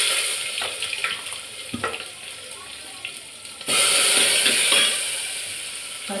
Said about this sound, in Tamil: சீரகம், வெந்தயம், 2-3 காஞ்ச மிளகா, கட் பண்ணி வச்சுருந்த வெங்காயம்,